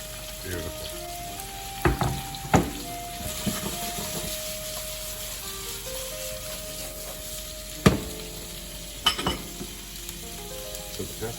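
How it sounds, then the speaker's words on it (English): Onions and peppers sizzle steadily in a hot pan, a continuous frying hiss broken by a few sharp clatters of stirring, close and fairly loud with no talk over it. "we're gonna saute the onions and peppers"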